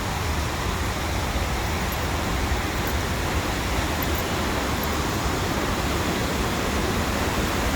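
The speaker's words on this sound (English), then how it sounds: "Here's the water. The waterfall. The Indian Leap." The waterfall at Indian Leap in Yantic pours in a steady, dense roar of rushing water, loud and close, with no breaks and no voices.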